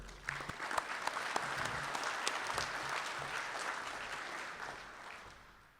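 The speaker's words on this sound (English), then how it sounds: "Let's hear it for Tom" Sustained applause from a large audience at an awards reception, steady clapping throughout that slowly fades toward the end.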